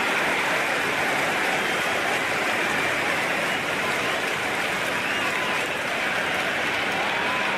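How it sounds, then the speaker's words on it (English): A packed cricket stadium crowd roars steadily through a T20 match between India and England. The dense, unbroken wash of cheering and applause stays loud and even throughout, with no single voice standing out. "There's an almost tangible fervour throughout the crowd at the moment"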